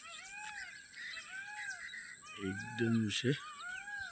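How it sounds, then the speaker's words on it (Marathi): Repeated high, arching meow-like peacock calls ring out at a distance over steady bird chatter, and someone speaks briefly near the end. "मोरांचा आवाज येतो बघा."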